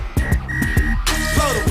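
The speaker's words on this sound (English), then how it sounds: "Blow the whistle." A whistle blown in short, shrill bursts over a heavy bass beat on a radio talk show, repeating several times at moderate loudness.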